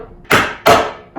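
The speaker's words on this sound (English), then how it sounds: "some of you watching me hammer right now" Two loud, sharp hammer blows on a nail driven into wood, about 0.4 seconds apart, followed by the start of a third strike, close up with no talk.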